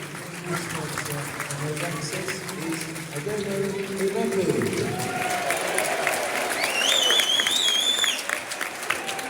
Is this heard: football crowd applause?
yes